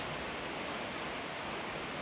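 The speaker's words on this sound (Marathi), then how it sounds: "वर्षातला पहिला पाऊस." The year's first rain pours steadily, a dense, even hiss of falling water with no break or change, with no voices over it.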